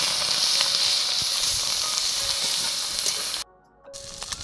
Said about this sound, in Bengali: চিংড়িগুলো ভেজে নেব এই তেলে।